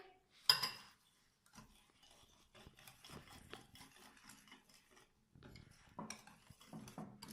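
Spices are stirred into yogurt in a bowl with a spoon. There is faint, soft scraping and a few light clinks, with one sharper clink near the start, in a quiet room.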